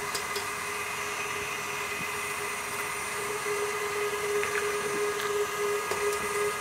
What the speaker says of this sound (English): we're going to blend this a little bit, just to mix the vanilla pods in with the sugar